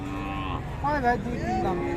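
A cow lets out a loud, drawn-out moo, then a second call, over the low murmur of a busy cattle market on a rainy day.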